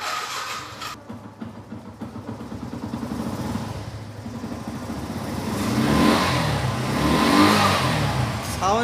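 A Yamaha FZS V1 motorcycle with about 50,000 km on it is self-started and its engine revs up and down in steady swells, loud and close, with no talk over it.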